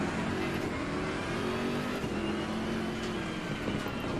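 GT3 race cars at Brands Hatch in the Assetto Corsa Competizione racing game, engines droning loudly and continuously with shifting revs as cars run close together.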